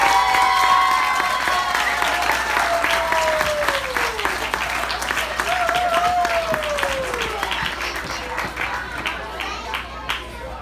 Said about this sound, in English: The more you clap, the more they'll remember